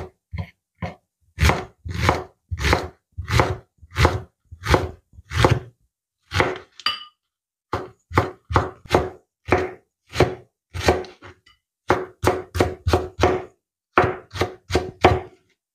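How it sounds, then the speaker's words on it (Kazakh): Onion chopped finely with a knife on a board, a steady run of close, crisp rhythmic chops in quick bursts with short pauses between. "Ол үшін біз алдымен пиязымызды турап аламыз. Мүмкіндігінше ұсақ."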